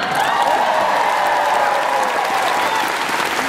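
Large audience at an award ceremony at a convention expo applauding, a dense, steady wash of clapping that stays loud and even from start to finish.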